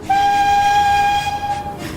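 A steam engine's whistle blows one long, loud, steady tone, with train running noise underneath as the whistle ends.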